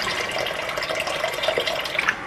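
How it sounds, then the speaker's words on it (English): Well water runs from a kitchen tap into a sink, a soft continuous splashing trickle, fairly faint and steady throughout with no voices. "so I'm going to go ahead and fill up partly of cold water."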